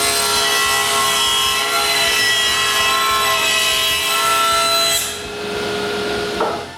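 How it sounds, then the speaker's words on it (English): A table saw blade cuts through wooden garage door panels in a shop, a loud sustained whine with a rasping grind that stops abruptly near the end and leaves the motor spinning down. "After all the sides of all the 16 panels are cut, I raise the blade and repeat the same thing"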